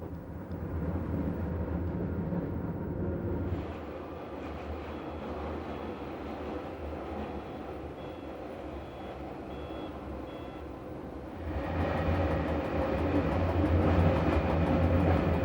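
A Chemins de Fer du Jura metre gauge train running through the streets of La Chaux-de-Fonds on rails embedded in the road, giving a steady loud rumble and drone that swells louder near the end, with no voices.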